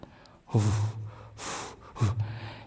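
Three loud, sharp breaths taken in quick succession, close and separated by brief pauses, demonstrating hyperventilation with no speech over them.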